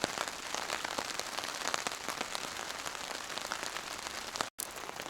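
Steady Washington State rain pattering on surfaces outdoors during a camp cooking session, a dense, even hiss of drops throughout with a brief dropout near the end, no talking.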